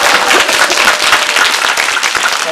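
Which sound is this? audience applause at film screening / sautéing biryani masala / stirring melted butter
audience applause at film screening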